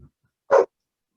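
A single short dog bark rings out indoors, loud and close, followed by silence.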